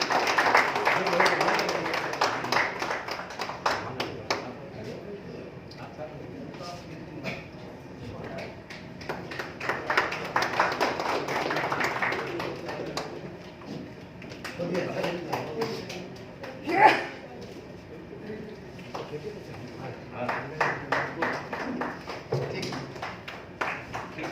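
Audience applause at an evening community service awards function at an academy of fine arts, clapping swelling in several bursts across the hall, mixed with crowd chatter and a brief ping-like knock.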